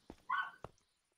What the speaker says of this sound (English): Why is your dog still awake?